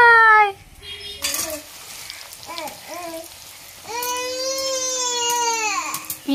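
Young child crying in a kitchen, with several short whimpering sobs building into a long loud wail, close by, after a clatter of pots and utensils.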